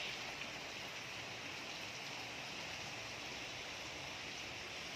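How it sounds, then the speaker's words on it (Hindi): Heavy rain falls outside in a steady, even hiss, constant and fairly close, with no voices over it. "बाहर हो रही है बारिश।"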